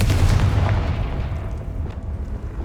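A spell blast bursting with a heavy, booming explosion in the wizarding action game Hogwarts Legacy, one loud rumbling impact right at the start that slowly decays into a lingering low roar, with no voices.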